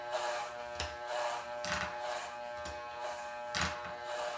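An electric hair clipper with a number 4 guard buzzing steadily through hair, with a constant tonal hum and a louder rasp coming back about once a second as it passes over the head, quiet and close.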